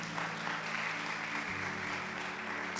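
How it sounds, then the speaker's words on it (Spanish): Church congregation applauding during a Spanish-language worship service, a steady, moderately loud wash of clapping with a low hum beneath, continuing evenly throughout. "Denle un aplauso a la palabra"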